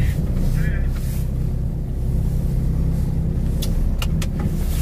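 Cars passing along a road in a truck driving game, a steady loud engine and tire roar with wind-like rush, several brief sharp clicks near the end, no talking.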